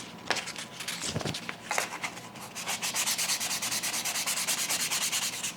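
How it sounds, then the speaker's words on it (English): Sandpaper rubs along the grain of a burl wood bass guitar top, at first in a few scattered strokes, then in a fast steady back-and-forth rhythm, close and moderately loud with no talk. "And of course, like always, sand with the grain"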